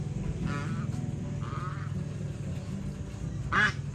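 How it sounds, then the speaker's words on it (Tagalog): A stray duck on a rural farmyard with chickens, pigs and pigeons quacks three times in short separate bursts, moderately close, over a constant low background hum. "Naligaw yata yung pato."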